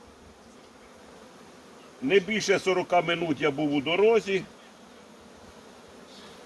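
Someone speaks, and a buzzing of bees rises and falls around his voice for a couple of seconds, with quiet background before and after.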